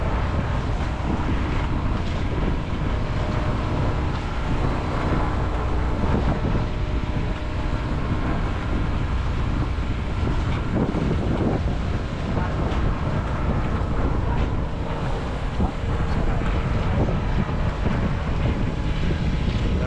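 Strong wind roars steadily into the microphone over open sea off Davao on a marlin fishing boat, with a constant low rumble and waves faintly beneath.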